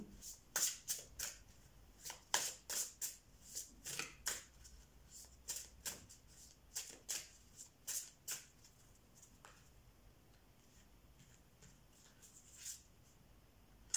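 Tarot cards are shuffled close up in repeated quick riffling bursts that come in an irregular rhythm, fairly quiet and with no talking, thinning out toward the end.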